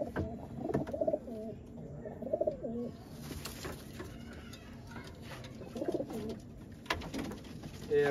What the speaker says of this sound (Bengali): এই যেমন এক জোড়া মাস্টার পেয়ার কালদম কবুতর